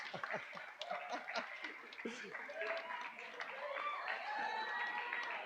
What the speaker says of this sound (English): We can just clap for you.